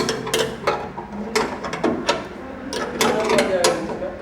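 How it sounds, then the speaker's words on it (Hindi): A 13 mm wrench tightening bolts on a flour mill (atta chakki) during installation, giving irregular metallic clicks and scrapes close by, under ongoing talk. "तेरह नंबर का रिंच से जो है इसको कसना है, अच्छी तरह से इसको हम लोग टाइट कर लेंगे।"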